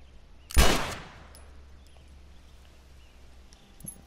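A single loud gunshot from the video game The Last of Us cracks near the start, its echo trailing off into quiet background noise.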